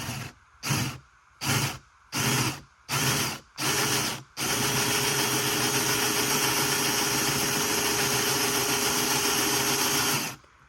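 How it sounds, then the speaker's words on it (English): A chainsaw engine revs in six short pulls, then roars steadily for several seconds before cutting off, during chainsaw carving of a wooden birdhouse. Close and loud, no voices. "I cut it on the angle with the chainsaw"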